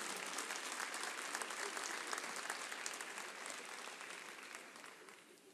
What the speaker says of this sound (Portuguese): Uma salva de palmas para o meu irmão ali.